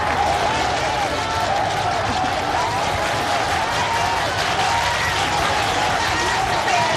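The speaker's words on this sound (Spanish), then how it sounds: "lo recibieron con aplausos en la entrada del edificio de gobierno" Applause greets Andrés Manuel López Obrador, welcomed by his cabinet and lawyers at the entrance of the government building; dense, steady clapping mixed with crowd noise and some voices runs loud throughout.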